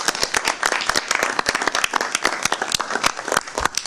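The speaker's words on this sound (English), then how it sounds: "giving her just a round of applause for her work here" A small audience at a board of directors meeting gives a round of applause, dense overlapping claps carrying steadily and fairly close for the whole stretch with no talk over them.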